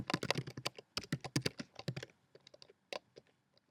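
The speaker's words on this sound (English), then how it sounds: "So I'll type the first fandom." Quick bursts of keystrokes on a computer keyboard, a dense run of clicks followed by a sparser few taps, close and clear with no talking.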